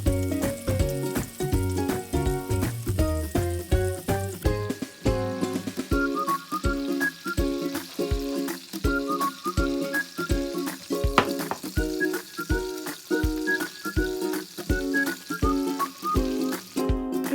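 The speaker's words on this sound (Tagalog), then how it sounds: "And then fry to seal the flavor to the meat." Marinated pork for adobo frying in a pan, a steady close sizzle running throughout, with rhythmic musical beats playing over it.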